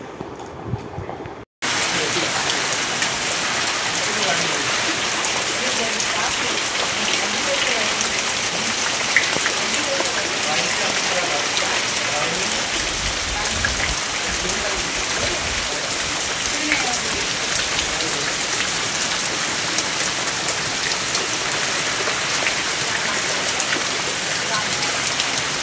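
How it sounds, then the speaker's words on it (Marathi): Heavy monsoon rain falling around a village house in Vilavade in the Konkan region, a dense, loud, continuous hiss of downpour that starts abruptly after a short quiet moment and stays steady to the end. "पावसाने पण आमचं जोरदार स्वागत केलं आहे"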